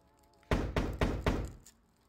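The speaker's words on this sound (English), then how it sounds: "Somebody's knocking at your door." Four firm knocks on a door, evenly spaced at a quick steady rhythm, sounding close and loud against a quiet background.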